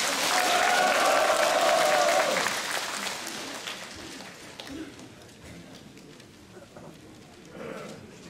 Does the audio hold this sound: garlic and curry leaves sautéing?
no